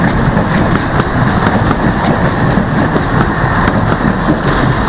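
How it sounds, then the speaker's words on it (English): A Cambridge to Thetford passenger train passing close by near Thorpe Junction, with a loud continuous rumble and a rhythmic clickety-clack of wheels over rail joints. "here's the Cambridge, the Thetford train."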